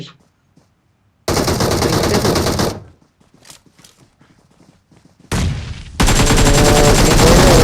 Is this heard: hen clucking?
no